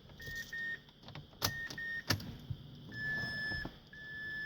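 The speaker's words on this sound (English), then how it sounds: "I put my car on the on position." A 2006 Mazda 6 ignition is turned to the on position, setting off a series of short electronic chimes and beeps, a couple of sharp clicks, and a soft whirring of electric motors priming inside the car.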